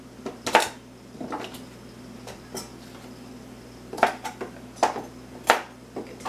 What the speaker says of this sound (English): The nice thing about juicing is you don't have to cut very small pieces. You just want to chop it up.